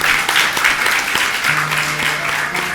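An audience at a spiritual discourse claps together in dense, continuous applause, loud and close, with a faint low hum running underneath.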